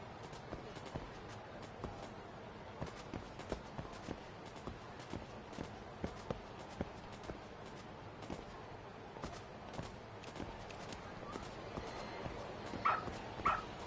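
A dog in the video game Lost Judgment barks and yips in short bursts among soft footstep ticks, the calls fairly quiet and scattered, a couple of sharper yelps near the end.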